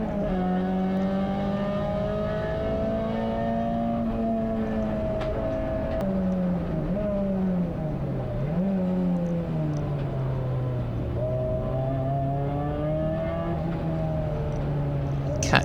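A Peugeot 206 race car's engine drones steadily and loudly from onboard at Anglesey circuit, its pitch rising and falling through gear changes and corners over the whole stretch.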